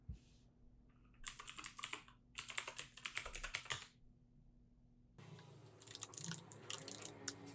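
Computer keyboard typing in quick bursts of clicky keystrokes, close and fairly quiet, with pauses between bursts and a denser patch of taps near the end.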